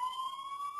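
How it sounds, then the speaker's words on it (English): An ambulance siren outside holds a steady, faint high tone that carries on without a break through the whole short moment, with no talk over it. "I don't know what's with the ambulances here today."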